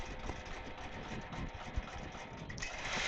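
A computerized quilting sewing machine stitches a repeat pattern with a continuous mechanical hum and rapid needle rhythm, steady and close throughout.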